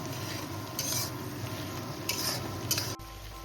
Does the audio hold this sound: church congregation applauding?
no